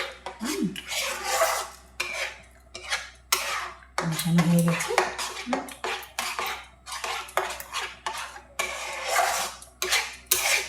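A spoon scrapes and clatters against a metal pot while a thick mango sweet mixture is stirred, steady repeated scraping strokes close by, with one short pause midway.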